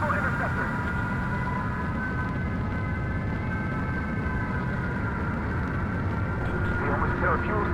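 Fighter jets take off in the video game Ace Combat 7, giving a loud, continuous engine roar with sustained whining tones that holds steady and swells slightly near the end.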